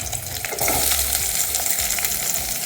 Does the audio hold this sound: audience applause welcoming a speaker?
no